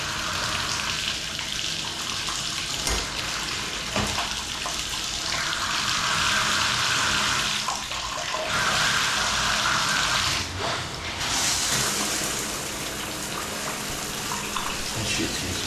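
Water runs steadily from a worn shower spout during a service call, a continuous hiss and splash with brief shifts in flow and small clanks, no talk.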